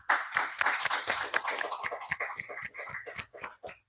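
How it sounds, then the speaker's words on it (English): A small audience at a campus talk on memory psychology and the New Testament gives a quick round of applause, crisp individual claps close by that thin out and scatter toward the end. "let's give it a round of applause real quick"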